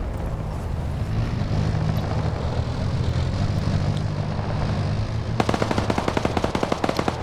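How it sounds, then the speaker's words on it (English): Autocannon fire in a PvP military video game, probably from a BMP armored vehicle: a steady engine-like rumble gives way to a rapid string of loud, evenly spaced shots during the final two seconds. "Yep, now we got the autocannon firing."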